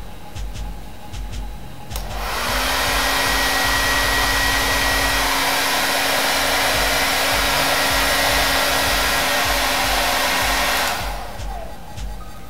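A hair dryer drying hair roars loudly and steadily for about nine seconds after a quiet start, then cuts off, with faint handling noises before and after.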